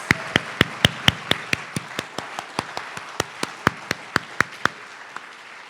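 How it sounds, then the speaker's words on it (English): Applause at the Collaborate Boston Showcase evening event: crisp, evenly spaced claps, close and fairly loud, that thin out toward the end. "Please join me in another round of applause for these extraordinary leaders"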